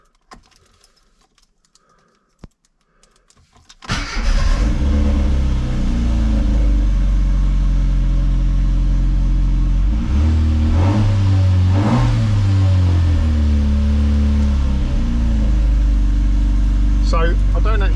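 A classic Mini Cooper S Sport 5 with a failed alternator cranks briefly after a few faint clicks, then catches and idles loudly up close, with a couple of short revs and a voice talking over it.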